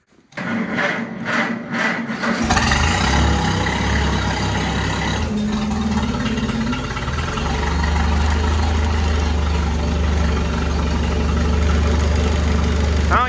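An old vehicle engine cold-starting on choke at about 15°F: a brief cranking, then it catches and settles into a steady, loud, close idle that deepens into a low drone.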